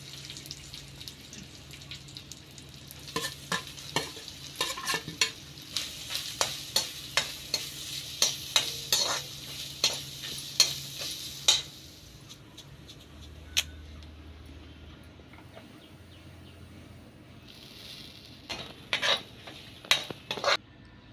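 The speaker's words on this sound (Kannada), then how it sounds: "ಒಂಜಿ ಬಣಲೆಗ್ ತಾರದೆಣ್ಣೆ, ಬೆಳ್ಳುಳ್ಳಿ, ಕೆಂಪು ಮುಂಚಿ, ದಾಸಿಮೆ, ಜೀರಿಗೆ, ಹಿಂಗ್, ತಾರೈ, ಧನಿಯಾ ಜೀರ ಪೌಡರ್, ಮಂಜಲ್ದ ಪೊಡಿ, ಗರಂ ಮಸಾಲ ಬೊಕ ಒಂತೆ ಉಪ್ಪು ಪಾಡ್ದು ಸರಿ ಫ್ರೈ ಮಲ್ತೆ." Spices sizzle in hot oil in a pan: garlic, red chilli, cumin, asafoetida, coriander-cumin powder, turmeric, garam masala and salt. A spoon scrapes the pan in quick, repeated strokes, then the frying settles to a quieter hiss before more scraping near the end.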